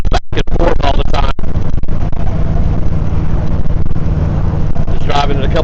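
A 1956 Ford Thunderbird with a 312 V8 Y-block drives along a road, giving a loud, steady engine and road rumble with wind buffeting close to the microphone and a few bumps near the start.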